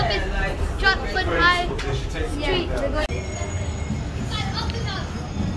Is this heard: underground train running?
yes